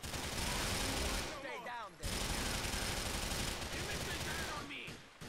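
Rapid automatic gunfire from the video game GTA IV bursts out in a dense, continuous stream, pausing briefly partway through before resuming just as loud, with game voices mixed faintly underneath.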